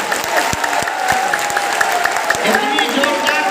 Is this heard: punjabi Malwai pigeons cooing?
no